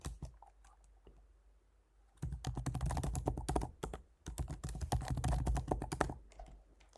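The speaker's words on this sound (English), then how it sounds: "Here, fill in your first name and last name and a password" A name and password are typed on a computer keyboard. Quiet scattered taps give way to a steady close run of rapid key clicks, a brief pause, then more fast typing.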